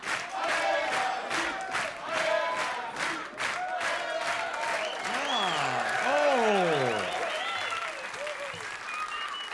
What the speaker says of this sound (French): Je voudrais qu'on applaudisse l'élégance de Vanessa ce soir.